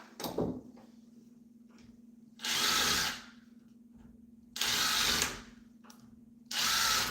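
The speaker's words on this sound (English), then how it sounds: "Let us pre-drill those." A power drill whirs in three separate bursts of about a second each while pre-drilling holes, with short quiet gaps and a faint knock between them.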